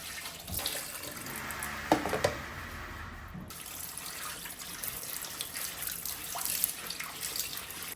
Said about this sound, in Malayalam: അപ്പോൾ നമുക്കിത് വാഷ് ചെയ്തെടുക്കാം.